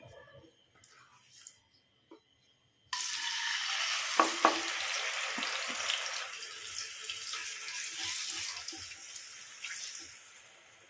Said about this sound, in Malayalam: ചേന നന്നായിട്ട് ഈ നെയ്ക്കകത്ത് കിടന്ന് വഴന്ന് വരേണ്ടതാണ്.